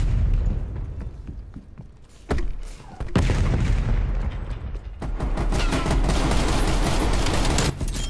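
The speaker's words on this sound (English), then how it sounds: "Hey, getting shot in the back." Gunfire in the video game Call of Duty Cold War comes as dense, loud bursts of rapid shots and heavy booms, continuous for several seconds with brief lulls between volleys.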